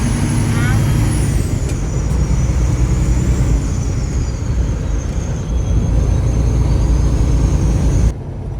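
A Peterbilt 389 truck with big exhaust pipes, its engine a loud, deep steady rumble heard from inside the cab, with a high whine over it and a voice talking throughout.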